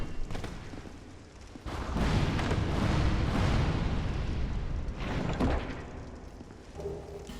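Fireball-shooting enemy in Dark Souls 2 unleashes a loud, sustained burst of booming, roaring fire blasts, swelling for several seconds and then easing off, alone without talk.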